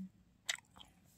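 Someone bites and chews food with one sharp crunchy bite and a softer chew after it, close to the mic and fairly quiet, with no talking.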